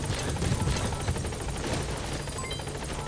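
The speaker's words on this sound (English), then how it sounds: "Support helicopter has arrived." Support helicopter in Metal Gear Solid V arriving at a landing zone, a steady loud rotor chop with rhythmic blade beats throughout, no talking.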